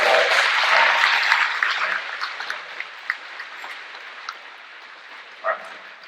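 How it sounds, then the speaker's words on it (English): Audience applause for a school board at a convocation, a dense wash of clapping that starts loud and thins out into a few scattered, isolated claps toward the end. "we need to give them a round of applause"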